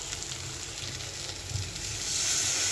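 Egg-potato masala fries in a hot pan with a steady sizzle, and water poured in near the end makes the hiss swell louder and brighter.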